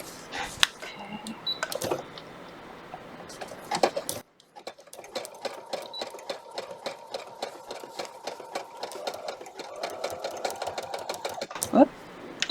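Close sewing machine stitching fabric for a hooded towel, running in short rapid bursts, pausing briefly and then running steadily again, with a voice talking over parts of it.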